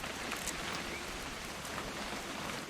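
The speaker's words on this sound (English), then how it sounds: "It's gonna rain the whole weekend, isn't it?" Rain patters steadily in What Remains of Edith Finch, a short burst of constant hissing drops striking nearby surfaces at an even level.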